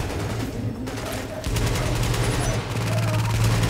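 An automated turret in The Division fires rapid, dense bursts of gunfire, loud and close, with a short pause before the shooting picks up and continues steadily.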